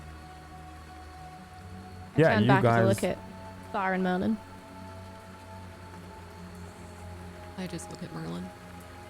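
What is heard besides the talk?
rain falling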